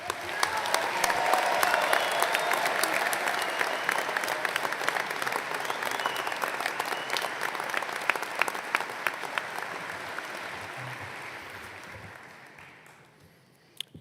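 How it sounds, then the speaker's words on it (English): Sustained applause from a large commencement audience for a graduating student, dense clapping holding steady for about twelve seconds before fading out. "Let's give Gio another round of applause, please."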